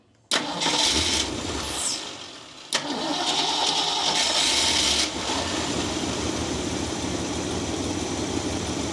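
A 1964 Ford Mustang, just fitted with a swapped carburetor, cranks briefly with a loud grinding whir, falls quiet for a moment, then catches and settles into a steady, close, rough idle.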